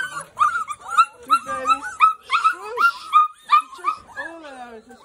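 Several puppies whimper, yip and bark in quick, overlapping bursts close by, an excited chorus of high squeals with a person speaking softly among them.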